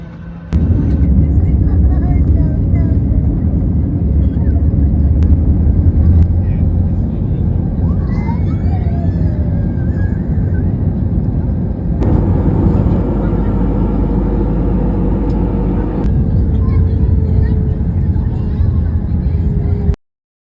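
Steady engine roar and cabin hum inside an airliner waiting for takeoff on a flight to France, loud and continuous, with a brief higher whine joining midway and cutting off abruptly at the end.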